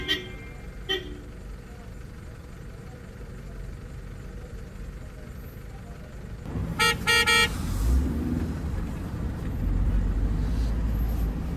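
Toyota Fortuner 4x4 labouring up a steep snowy climb in winter Spiti, a low engine drone throughout with a brief burst of repeated horn toots midway, then heavier engine strain toward the end.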